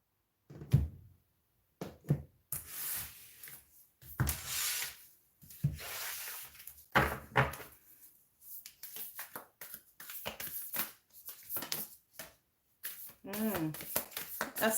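Tarot cards rubbed and shuffled in a long, uneven series of soft riffles and slides, close up and quiet, with a few louder bursts near the start.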